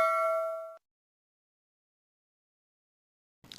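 A single bright bell-like ding, the subscribe-button chime, rings out clearly with a short decay, then silence follows before a brief faint noise at the end.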